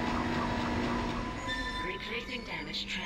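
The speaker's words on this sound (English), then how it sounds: "The tram is blocking the whole system." A tram car moves along its track in the Dead Space video game, a continuous rumbling roll with high metallic squeals and tonal whines, while a voice talks faintly over it.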